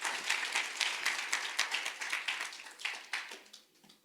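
Church congregation applauding during a bilingual Spanish-English sermon, steady dense clapping from many hands that thins out and fades toward the end.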